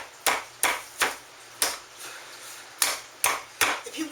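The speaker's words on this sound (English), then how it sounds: "Alright. Let's pound this." A meat mallet pounds a pork loin flat in about ten sharp, close blows at an irregular rhythm, each thud ringing briefly before the next, with no talking.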